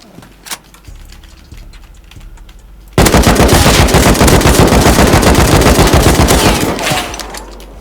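Gunfire in the survival game Rust during a base raid: a quiet stretch of faint clicks and scattered shots, then a sudden loud, dense burst of sustained automatic fire that continues for several seconds before easing off.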